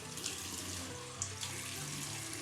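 Tap water runs steadily into a sink over a shaving brush during post-shave care with a straight razor, a continuous close splashing hiss with small bumps as the brush moves under the stream.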